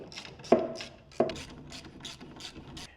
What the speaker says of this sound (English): that's when you get your 3/16 Allen key or Allen wrench and start getting after